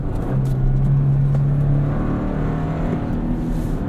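A 2024 Toyota Tacoma pickup with a six-speed manual gearbox being driven, a steady low engine hum and road rumble from inside the cab with a slight rise in revs, no voices over it.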